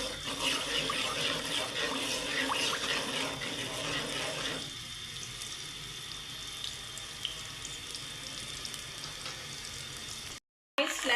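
Garlic ginger paste fries in hot oil for a potato curry, a steady broad sizzle that loudens at first, then settles into a quieter, even crackle before a brief silent gap near the end.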